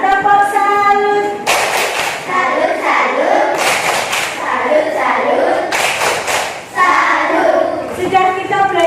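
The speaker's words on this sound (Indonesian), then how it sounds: "Salut dulu, tepuk buat Ilham. Tepuk salut." A classroom of children claps for a student in a patterned cheer, with bursts of clapping separated by a voice speaking and children chanting.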